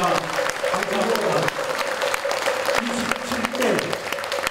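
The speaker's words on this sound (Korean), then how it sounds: "큰 박수로 부탁드립니다." Audience applause at a Korean Buddhist Taego Order inauguration ceremony for a new head of administration, steady and dense clapping from a large seated crowd throughout, with a voice speaking over it amid sustained tones.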